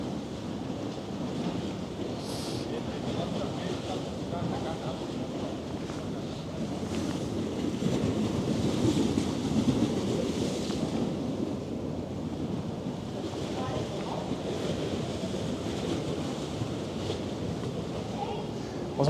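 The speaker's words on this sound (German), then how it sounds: "die Welle schlägt hier voll unter." Waves slapping against the hull beneath the cruise ship Mein Schiff 4, a continuous rough rushing and sloshing wash with low rumble and wind buffeting, swelling louder midway through.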